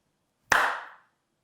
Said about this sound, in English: So when you clap your hands, the air around your hands shakes.